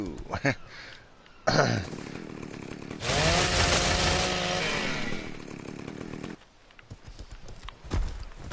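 A chainsaw in the video game ARK Survival on PS4 roars loud and steady for several seconds, cutting in after short bursts of game noise and stopping abruptly, with quieter game sounds around it.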